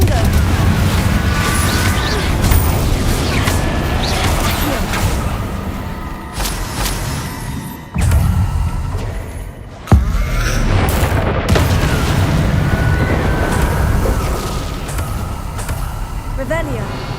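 Fire-spell blasts go off in Hogwarts Legacy combat, with booming explosions over loud, continuous game rumble and two sharp bursts standing out near the middle.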